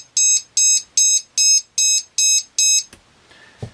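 Seven loud, evenly spaced electronic beeps from the buzzer on a Hobbymate 5-in-1 power distribution board, sharp and piercing, followed by a brief click and faint handling noise.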